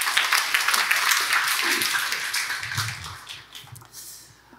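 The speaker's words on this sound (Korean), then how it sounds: "하나님께 영광의 박수 올리겠습니다." A church congregation claps steadily in dense, sustained applause that fades near the end.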